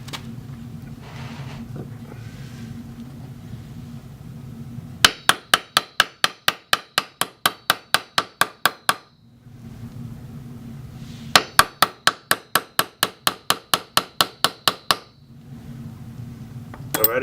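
A hammer strikes a stud into a Jeep drive shaft U-joint in two bursts of about a dozen sharp, rapid metallic blows each, loud and close, separated by quieter pauses with low background rumble.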